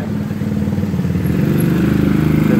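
A Mikasa tamping rammer's small engine fires up and runs, a loud, close, rapid chugging putter that grows steadily stronger with no talk over it.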